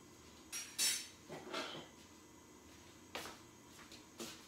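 A plastic utensil scrapes and knocks in a cooking pan in a home kitchen, a few short scraping strokes and clinks of moderate loudness with quiet gaps between them and no talk.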